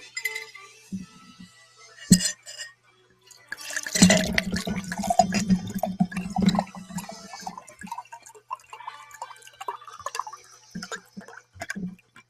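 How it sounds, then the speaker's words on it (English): Water sloshes and clinks in a glass stirred with a glass straw, with scattered drips and bright chinks up close, then a longer burst of swirling and tinkling before it tapers off into sparse clinks. "Could you hear that? Yeah, that's the water, people."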